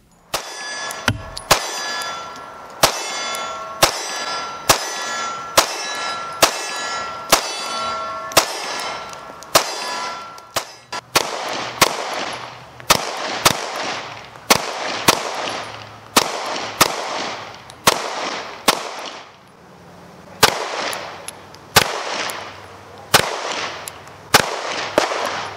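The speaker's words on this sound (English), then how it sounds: "Today I ran about 400 rounds through my Hellcat Pro using all Winchester ammunition" Springfield Armory Hellcat Pro pistol firing Winchester ammunition at a range, sharp shots ringing off steel targets with bright metallic clangs, a steady rhythm of single shots that later turns into faster irregular bursts, loud and alone.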